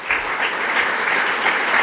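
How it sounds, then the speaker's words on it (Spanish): An audience at a cycling club gala breaks into steady applause, many hands clapping together in a dense, even wash of sound throughout, with no speech. "Y por eso pido un fuerte aplauso"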